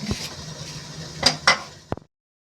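A spoon clinks and scrapes in a bowl as Indian gooseberry is mixed with amchur powder and salt. The scraping is soft at first, then comes a few sharper knocks and a last clink before silence.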